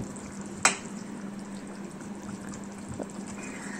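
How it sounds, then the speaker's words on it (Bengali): Fried bata fish goes into a pot of boiling curry sauce with one sharp splash, then the sauce keeps a soft, steady bubbling simmer close by, with a faint second plop later. "এখন আমি এর মধ্যে ভেজে রাখা মাছগুলো দিয়ে দেব ঝোলটার মধ্যে।"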